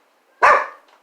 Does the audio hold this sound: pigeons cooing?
no